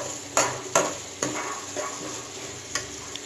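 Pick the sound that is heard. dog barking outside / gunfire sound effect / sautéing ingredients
sautéing ingredients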